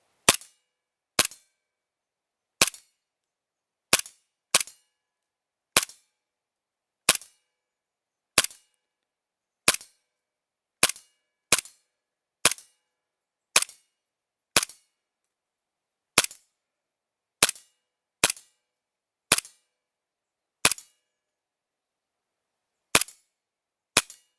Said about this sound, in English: We're going to be aiming for that white target just there.